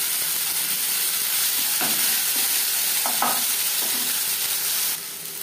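Ginger and green chilli paste sizzling in refined oil with whole cumin, a steady close hiss broken by a few scraping stirs, then quieting at the end.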